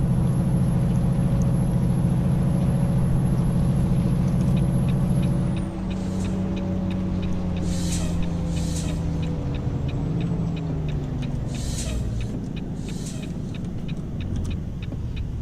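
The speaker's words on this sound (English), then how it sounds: "I'm loving the little release and purge of the air brakes." In American Truck Simulator, a truck engine idles steadily, then its air brakes give a sharp hissing release followed by several short purge bursts of air, fairly close, with no talk.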